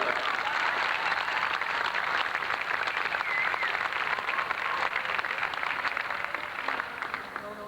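Sustained, dense applause fills a gymnasium crowd at a 1986 Illinois high school boys soccer championship game, cheering for the team with steady clapping throughout.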